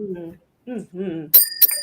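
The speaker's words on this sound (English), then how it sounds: "You got the bell ring on that one." A bell rings twice in quick succession, bright and sharp, right after a stretch of talking voices.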